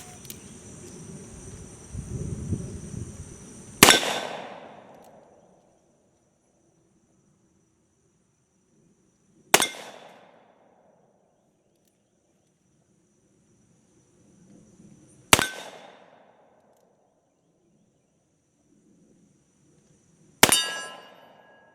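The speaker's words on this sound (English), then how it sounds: "we're gonna go ring up some steel with the new model Army" Four sharp metallic rings from a Pietta 1858 Remington New Model Army revolver with a .45 LC Kirst conversion, each shot striking a steel target with a bright clang and a short decaying ring, spaced several seconds apart at an outdoor range.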